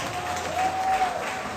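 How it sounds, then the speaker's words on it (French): Crowd at a comedy stage show clapping for a couple, a brief burst of steady applause swelling slightly in the middle. "est-ce qu'on peut applaudir pour le couple?"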